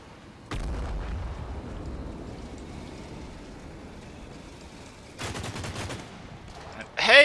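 Gunfire and explosions from the Combat Mission war game: a sharp burst near the start, rumbling fire throughout, another broadband volley around five seconds and a loud crack at the end, with faint voices under the battle.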